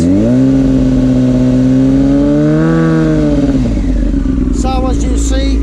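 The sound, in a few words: Yamaha R6 motorcycle engine revving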